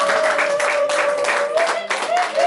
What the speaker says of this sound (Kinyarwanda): Amashyi menshi cyane tubishimire.